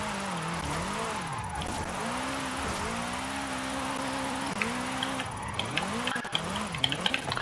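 A Polaris RZR side-by-side drifts in Forza Horizon 5, its engine note rising and falling in long sweeping pitch bends as it transitions left to right, with scattered tire skid chirps toward the end; steady and close throughout.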